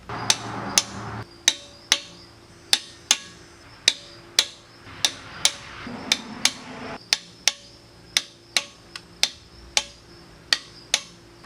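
A torque wrench clicking while tightening intake manifold bolts on a 351M engine: a regular series of sharp, close metallic clicks, about two per second, with a few quick double clicks and no talking.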